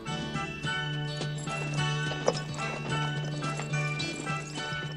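Horse hooves clip-clop steadily in a scene from the 1973 spaghetti western My Name Is Nobody, amid a busy, tonal background with faint jingling, the rhythm partly masked by music-like sustained tones.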